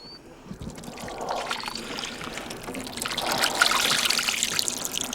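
Water trickles and dribbles out of cooking pine tar, a faint, close, irregular liquid sound that grows slightly fuller toward the end.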